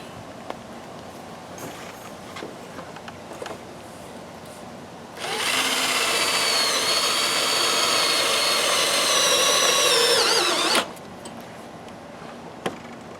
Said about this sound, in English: he's going to put it together, each one of it, and he's going to screw it together to hold it more securely